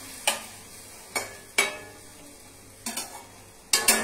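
Vegetables frying in a pan are stirred with a utensil, with five sharp scraping clacks at irregular intervals over a low steady sizzle, close and clear with no talking.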